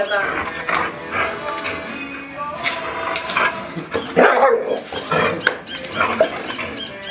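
A dog barks, yips and whimpers intermittently, close by, mixed in with people talking over it.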